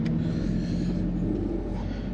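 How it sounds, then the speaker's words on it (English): Sticky tires of a 2016 Alfa Romeo 4C picking up gravel on the road, a loud, steady, dense rumble of tire and road noise that runs unbroken throughout. "that's these sticky tires picking up gravel on the road"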